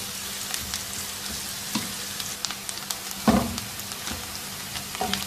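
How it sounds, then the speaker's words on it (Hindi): Two medium finely chopped onions fry in a pan, giving a soft, steady crackling sizzle with small pops and stirring scrapes, heard alone at low volume. "इतनी देर तक इस प्याज को पकाएंगे कि इसका रंग हल्का सुनहरा हो जाए।"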